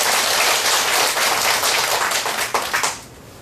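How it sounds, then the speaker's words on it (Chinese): An audience at a Buddhist lecture breaks into dense, sustained applause, loud and continuous before thinning into a few scattered claps as it fades out near the end. "来鼓掌一下哈"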